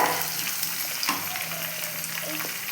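Garlic and ginger sautéing in hot oil in a pan give a steady, close sizzle with soft stirring scrapes, loud and unbroken over a few seconds.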